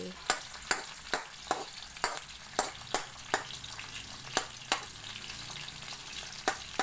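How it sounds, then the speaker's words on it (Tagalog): Onions sautéing in a pan, a low steady sizzle punctuated by regular sharp spatula taps against the pan roughly every third of a second, close and fairly quiet. "Ato sa siyang gisahon ang sibuyas"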